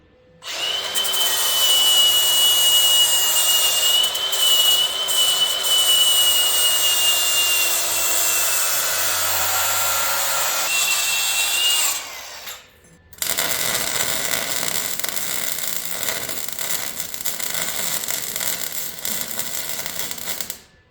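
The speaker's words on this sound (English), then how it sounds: "I ground some off, re-welded a couple spots, and smoothed her out a little bit." Sustained loud grinding on a shortened F100 truck frame, a steady abrasive whine with a slight pitch drift, a brief pause, then more harsh grinding and scraping, close by and alone.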